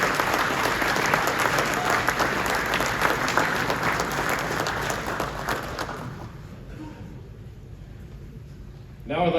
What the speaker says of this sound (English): let's give those groups a big round of applause